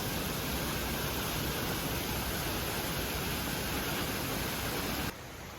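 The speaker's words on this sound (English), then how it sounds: "The river La Paz forms the waterfall after traversing 8 kilometers of volcanic terrain" La Paz Waterfall in Costa Rica, a river plunging through rainforest, heard as a loud, dense, unbroken roar of falling water that drops off sharply near the end.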